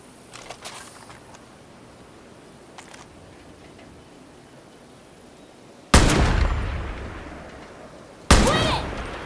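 Two sharp, loud gunshot blasts ring out in the Far Cry New Dawn video game, each decaying over a couple of seconds, after a stretch of quiet ambient background with faint ticks.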